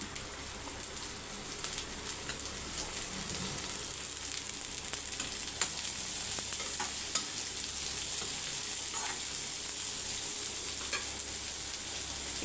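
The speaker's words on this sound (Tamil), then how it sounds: "ஆனியன் வந்து பாதி வதங்கினா போதும் இப்போ வந்து பீன்ஸ் சேர்த்துக்கலாம் பீன்ஸு கேரட்டு கோஸு" Onion, beans, carrot and cabbage stir-fried in a pan, giving a close, continuous sizzle with steady frying crackle and occasional scrapes of stirring throughout.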